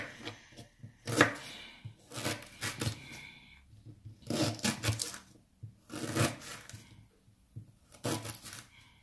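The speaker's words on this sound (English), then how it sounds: "And I will be slicing my ginger a little bit." A knife slices through fresh ginger on a cutting board while preparing a cucumber and ginger drink, giving bursts of quick, close, crisp chopping strokes separated by short pauses.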